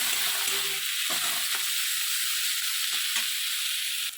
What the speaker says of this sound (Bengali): কাঁচা লঙ্কা কুচিগুলো দিয়ে দিলাম দিয়ে ভালো করে আমি এটা ভেজে নেবো